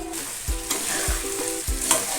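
Marinated mutton for a Bengali-style curry fries loudly in a pan, a constant close sizzle broken by repeated scraping stirs and thumps of the spoon against the metal, with no voices.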